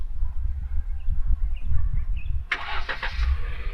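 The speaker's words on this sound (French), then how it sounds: "et le véhicule a démarré" A Changan Hunter Plus engine cranking and firing on remote start, heard close after a quiet low rumble, catching suddenly and then settling into a steady idle.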